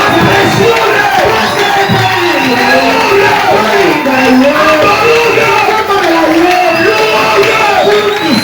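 A large church congregation cheers and shouts in acclaim, a dense, loud and sustained roar of voices with whoops and cries running throughout.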